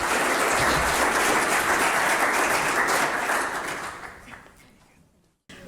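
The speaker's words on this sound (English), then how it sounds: "Great to get a round of applause." Audience applause at the close of a panel at a sustainable forestry forum, a sustained wash of many clapping hands that gradually thins and fades away, ending in near silence.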